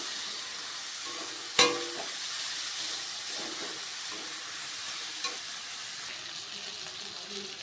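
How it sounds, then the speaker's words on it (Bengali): Vegetables stir-frying in a pan for chira pulao (flattened rice pulao), a steady close sizzle with one sharp utensil clank early on and soft scraping through the rest. "একটু সবজিগুলো ভাজা ভাজা হয়ে এসেছে"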